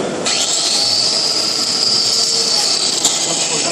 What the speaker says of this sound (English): We put the grinder in the back, like this. We make the groove.